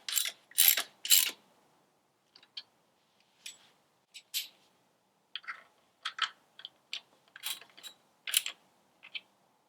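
Frame slider bolts are turned by hand to snug on a 2018 Kawasaki Ninja 1000, giving sparse, sharp metallic clicks and ratcheting ticks scattered across otherwise quiet stretches.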